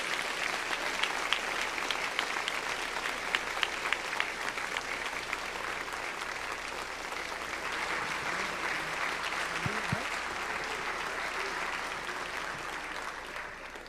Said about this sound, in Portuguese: Então, vamos recebê-lo aplaudindo a Cristo Jesus.